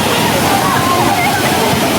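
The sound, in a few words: waterfall at Taytay Falls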